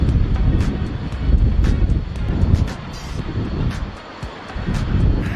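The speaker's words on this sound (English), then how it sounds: "A plane lands on a runway." An airplane lands on a runway, a broad rumbling engine roar with wind buffeting the microphone, swelling and easing over several seconds with faint high clicks.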